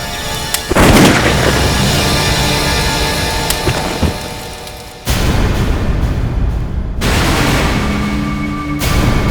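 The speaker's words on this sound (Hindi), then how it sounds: "टैंक को ही गोली से उड़ा देता हूँ।" A gunshot blowing up a tank in a TV crime drama, heard as a loud booming blast followed by a long rumbling roar, with a second heavy surge later and a final sharp hit.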